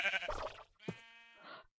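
A sheep in the Minecraft video game, near a portal gun mod portal, lets out two short, close bleats separated by a brief pause, clear against silence and with no talk.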